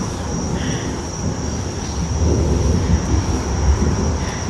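A steady low rumble of an airplane engine drones in the distance at night, blending with broadband outdoor noise and a faint high-pitched hiss throughout.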